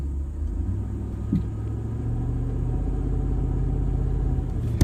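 A truck engine in low range strains against a tree with a steady, close, low rumbling drone that holds at an even load the whole time, with no voices.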